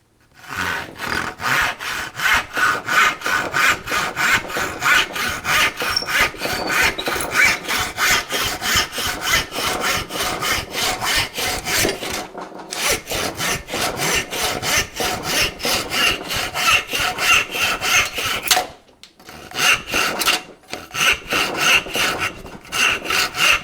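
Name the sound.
hand saw cutting through pine before sharpening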